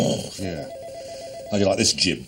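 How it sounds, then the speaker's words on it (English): A telephone rings with a steady electronic tone between stretches of a man's speech, heard indoors at moderate loudness. "That noise is the phone."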